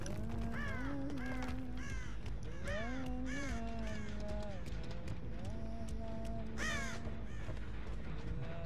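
Crows caw repeatedly in the horror video game Dead by Daylight, sharp bursts recurring throughout over a dense game soundscape with pitched tones and a steady low rumble.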